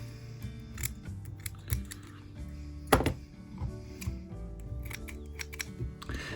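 Scissors snip repeatedly while trimming the head of a perch-pattern streamer fly on the tying bench, a string of short, close, crisp clicks among soft handling taps and quiet rustling.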